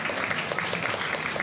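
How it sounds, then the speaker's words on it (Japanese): An audience at the Turtle Talk show at Tokyo DisneySea claps briefly, a soft, even patter of many hands heard a little distant. "みんな拍手を送ろうぜ。"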